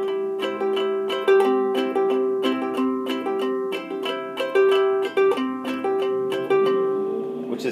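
Ukulele picked in clawhammer style, a steady rolling pattern of bright plucked notes with a bouncy, even rhythm, played close and alone for several seconds.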